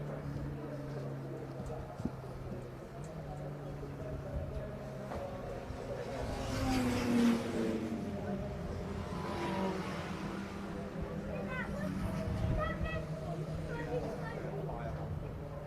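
Race cars at Donington Park circuit heard from a spectator vantage, a continuous engine drone with a couple of louder swells as cars pass, under background crowd chatter and talk throughout.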